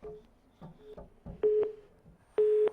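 Telephone busy or disconnect tone on a TV call-in show: a steady mid-pitched beep sounds in two long bursts, the second louder, over faint low background noise.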